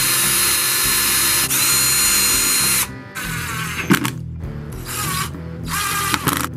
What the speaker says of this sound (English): I'm going to use this self-centering drill bit to start them out.